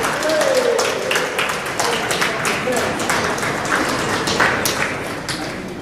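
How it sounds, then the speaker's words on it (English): Applause fills a hall right after South African President Ramaphosa signs the National Health Insurance Bill into law, dense steady clapping from a crowd throughout with a voice briefly over it. "With an applause, another big round of applause."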